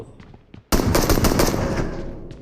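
Rapid automatic gunfire erupts in a first-person shooter game, a sudden loud sustained burst of rattling shots following a quieter lead-in.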